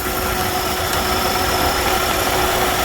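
A car engine idles steadily with the AC on, a constant close mechanical hum and whir without any clear break where a compressor clutch engages.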